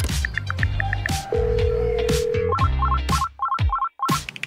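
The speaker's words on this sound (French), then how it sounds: "Pourquoi est-ce qu'il ne répond pas à son téléphone?" A telephone rings repeatedly with no answer, its patterned electronic tones repeating in short bursts over background music, with no voices.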